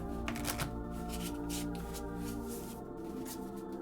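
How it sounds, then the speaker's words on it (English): A deck of playing cards being shuffled by hand for a tabletop card game, a steady papery riffling and sliding that runs continuously at close range with no talk over it. "We're going to shuffle each pile."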